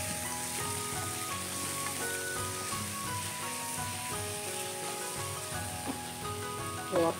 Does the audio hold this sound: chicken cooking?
yes